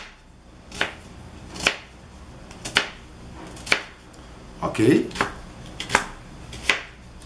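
A knife chops onion into cubes on a board for blender onion bread, making about eight crisp, close knocks at an unhurried pace, with a brief spoken word in the middle.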